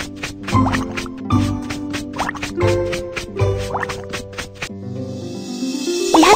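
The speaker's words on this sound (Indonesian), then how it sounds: "Semprot toilet dengan cairan pembersih." In the Baby Bus toilet-cleaning game, cleaning liquid is sprayed on a toilet in four or five short, regular hissing bursts over looping cartoon music, followed by a brighter sparkling effect.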